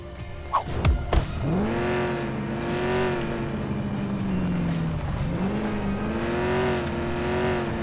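A stolen car drives in the video game American Fugitive, its engine droning steadily with revving rises and falls, after a couple of brief sharp knocks at the start.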